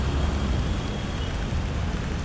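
Heavy rain falls outdoors in Cagayan de Oro as a steady, dense hiss of drops with a low rumble underneath. It is continuous and even throughout, with no voices.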